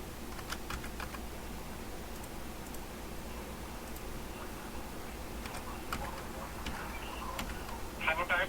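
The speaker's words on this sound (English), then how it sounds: "I'm typing it." Keys tap on a computer keyboard in quick, light clusters, faint and close over a low room hum, with a brief louder burst near the end.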